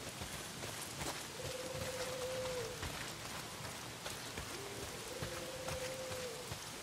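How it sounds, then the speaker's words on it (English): Steady rain falls in the video game Days Gone, a soft continuous hiss of drops on surfaces, faint and even throughout, with two sustained tonal hums and no talking. "Well, not if it's pissing down rain."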